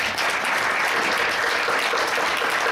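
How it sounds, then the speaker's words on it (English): Dense, steady applause from a conference audience at an anti-aging congress, filling the whole stretch at an even, fairly loud level with no pauses. "you and the whole organization deserve a big applause"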